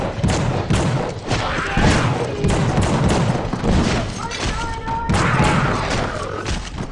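Revolvers and Tommy guns fire in The Suffering on PlayStation 2: dense, continuous bursts of loud gunshots and thuds fill the whole stretch, with a voice talking over the action.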